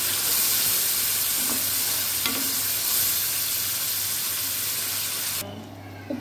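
A spoon stirs a turmeric and lemon juice mixture in a pan, producing a steady sizzling, frying hiss throughout with a few faint scraping clinks, ending abruptly near the close.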